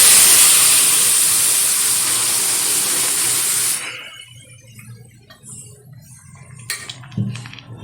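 Boiled red lentil dal, cooked with flat beans and bottle gourd, is poured into a hot tempering in a wok, setting off a loud, steady hissing sizzle for several seconds that then drops to quiet bubbling and faint clinks.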